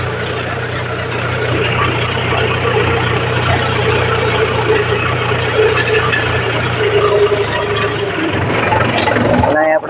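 A tractor engine runs beside a cotton field being irrigated, a close, loud, steady idling rumble with a constant low hum throughout that cuts off abruptly at the very end.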